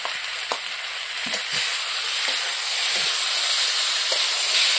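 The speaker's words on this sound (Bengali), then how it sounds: "ভালো করে মশলাটা মিক্স করে নিলাম।" Spice paste of turmeric, chilli, ginger and cumin frying and stirred in a pan for a Bengali small fish curry with potato and aubergine, a steady bright sizzle with a few soft spoon scrapes, close and continuous, no talking.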